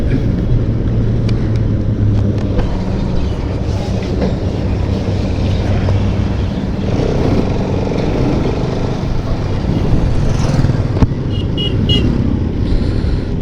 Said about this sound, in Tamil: இங்கேயே இவ்வளோ டிராஃபிக்கு